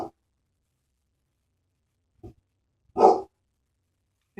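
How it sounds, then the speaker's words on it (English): A dog barks a few times, short and sharp, in an otherwise quiet indoor room, with long silences between the barks. "My dog is barking right now."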